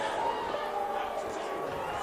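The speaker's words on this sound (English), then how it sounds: "You hear the boos from the Owls section of this crowd." Crowd at a high school boys lacrosse championship game, a dense, steady roar of booing and crowd noise from the stands, continuous and moderately distant, under a commentator's voice.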